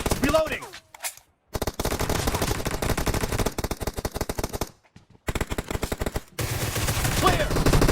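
Rapid automatic bursts from an unsuppressed Groza assault rifle in PUBG Mobile, several long strings of close, loud shots separated by brief silent gaps, with faint game sounds between.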